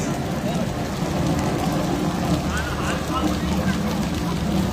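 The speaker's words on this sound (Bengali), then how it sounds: "প্রপার বৃষ্টি যাকে বলে সেটাই হচ্ছে" Steady rain pours outdoors near a small bridge, where children are playing. It makes a dense, continuous wash with no pause, and people talk over it.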